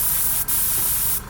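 An airbrush spraying craft acrylic paint gives off a loud, close, steady hiss, broken by a brief cutoff partway through and easing slightly at the end.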